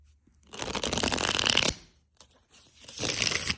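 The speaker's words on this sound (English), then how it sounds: "I want to give it a shuffle or two" Tarot cards shuffled in two loud, close riffling bursts, each lasting about a second, separated by a short pause with faint handling noise.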